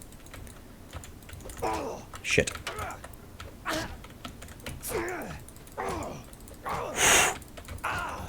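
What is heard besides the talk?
computer keyboard keys pressed while playing a game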